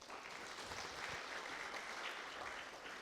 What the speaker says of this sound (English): Let's give Tino a round of applause.